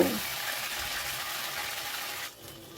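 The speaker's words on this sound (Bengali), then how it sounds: "এবার জল ঝরিয়ে ডালের বড়াগুলোকে আমি গরম তেলে দিয়ে দিলাম।" Lentil fritters frying in hot mustard oil, a dense continuous hiss of sizzling oil heard close up, easing slightly near the end.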